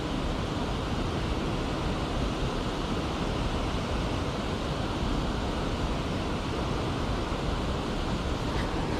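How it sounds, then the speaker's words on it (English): Water pours steadily over a noisy weir on the River Thames, a loud, continuous broadband roar that holds unchanged from start to finish with no voices. "it's a very noisy weir"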